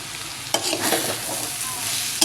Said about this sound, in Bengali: তারপরে এটা বেশ কিছুক্ষণ ধরে ভেজে নেবো